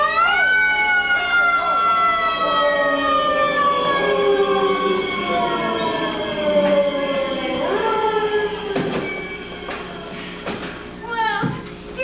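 A wailing siren from an approaching morgue wagon rises and falls in long sweeping tones, loud and close, as the vehicle passes, with a few thumps toward the end.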